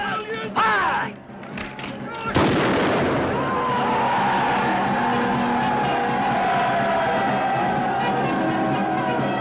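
Musket volley fired by a company of soldiers in a 1958 film drama set in the French Revolution, a sharp loud burst after shouted commands, followed by a long rolling rumble of crowd noise and echo.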